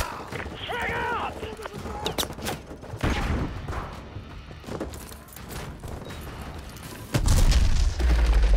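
A P90 submachine gun fires in Modern Warfare 2 Remastered as rapid bursts and booms mixed with game effects, loudest near the end, while voices speak over the gunfire.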